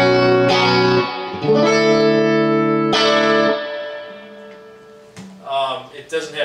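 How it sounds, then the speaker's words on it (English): Clean electric guitar played through an Echoplex EP3 echo into an amp with generous reverb: ringing sustained chords and single notes with echo repeats and a lingering reverb tail, played alone. "The amp has got a fair amount of reverb dialed in."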